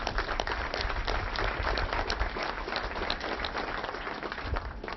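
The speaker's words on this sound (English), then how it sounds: "Let's give them a big round of applause." Audience applause at an outdoor civic event for a garage redevelopment in Springfield, a sustained loud wash of clapping lasting the whole stretch without speech.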